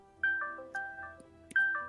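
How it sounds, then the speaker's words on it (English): A phone ringtone for an incoming call chimes faintly in the background as a short repeating melody of clear electronic beeps, the pattern starting over after about a second. "Who's got a call coming in?"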